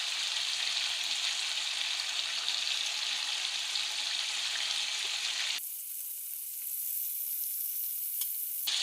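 Tomatoes fry on medium heat for a karahi, giving a steady, close, bright sizzle that runs the whole time. Partway through it turns thinner and quieter.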